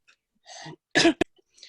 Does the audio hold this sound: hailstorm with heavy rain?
no